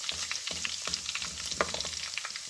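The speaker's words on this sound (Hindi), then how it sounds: "हल्का सा ये 2 सेकंड फ्राई हो जाए तो अब हम डालें इसके अंदर लहसुन चॉप किया" Chopped garlic sizzles steadily in hot oil with beet leaves, a continuous close frying hiss broken by light stirring clicks, with no voices.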